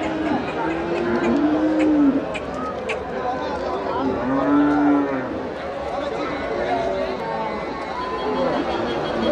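Cattle at a crowded cow market in Melapalayam, with several drawn-out moos rising over steady crowd chatter and bargaining voices throughout.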